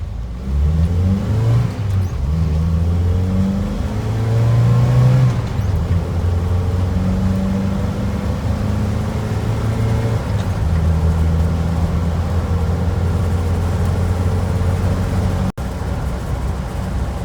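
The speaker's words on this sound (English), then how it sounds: "Little road trip with a truck that hasn't been driven in a while?" A V8-powered S10 pickup truck on a road trip, its engine rumbling and revving through gear changes at close range, with a steady road roar and no talk.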